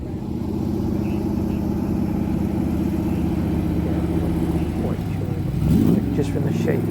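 A Chevrolet Corvette engine idling at a Goodwood Breakfast Club classic car gathering, a low steady rumble with a slight rev near the end amid crowd noise and talk.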